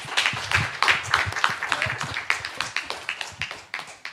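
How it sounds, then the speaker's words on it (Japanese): Church worship audience clapping to welcome a speaker, a lively run of distinct handclaps from a modest group, fairly close and steady for a few seconds. "拍手で迎えましょう。"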